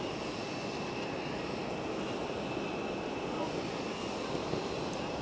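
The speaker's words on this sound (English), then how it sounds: "So I think this is that 737-400." A Boeing 737-400 jet airliner passes at an airport, producing a steady broad roar that holds constant throughout.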